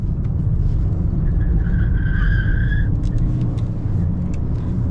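A Toyota Corolla 1.8 hybrid with worn tyres drives on a road, a loud continuous low rumble of tyres and road noise filling the cabin, with a brief high whine in the middle and faint clicks.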